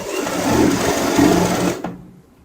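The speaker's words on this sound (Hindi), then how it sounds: "ये सिलाई भी हम यहाँ पे मिला लेते हैं ऐसे, जैसे आप देख पा रहे हो।" Sewing machine running steadily while stitching a seam on a lightweight readymade gown during alteration, a continuous close whirring hum that stops abruptly near the end.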